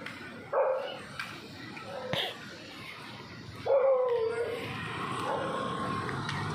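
A dog barks and yips a few times in short, separate bursts, with people talking throughout.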